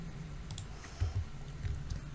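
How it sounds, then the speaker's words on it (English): A computer keyboard's delete key is tapped a few times in quick succession, soft clicks close by over a steady low room hum. "I'm just selecting and deleting, pressing delete on my keyboard."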